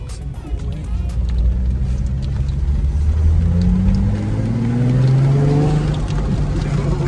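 A Nissan 350Z engine drones and rumbles from inside the cabin while driving, pitch climbing steadily as it accelerates and revs through the gears, loud and continuous with no talk.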